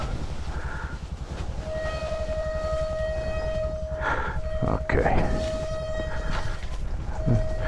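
A train horn sounds in long steady tones over the low rumble of a passing train, with a brief spoken word.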